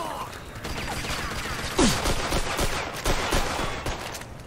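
Gunfire in the video game Mafia II: sharp bursts of shots crack over a steady bed of game noise, with one loud report standing out near the middle.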